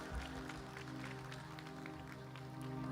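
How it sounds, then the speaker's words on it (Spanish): Festival audience clapping for the camera and technical crew at a Río Gallegos anniversary celebration, a steady dense wash of applause over sustained music for the full stretch. "Fuerte el aplauso para las cámaras, para la gente de técnica"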